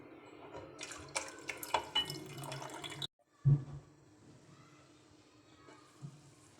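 Water poured into a pan of masala and yogurt frying in oil, a trickling splash followed by a brief sharp hiss and low sizzle, faint and close with no talking.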